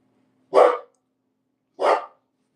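Two loud, sharp dog barks about a second apart as a neighbor walks past with dogs, close by with silence in between and no voices.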